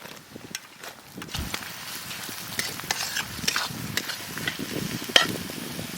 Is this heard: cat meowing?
no